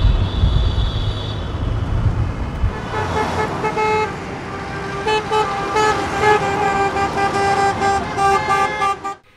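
A motorcade rally of more than a hundred cars carrying Ukrainian flags through central city streets: engines rumble at first, then many car horns honk loudly in overlapping, repeated blasts before cutting off abruptly.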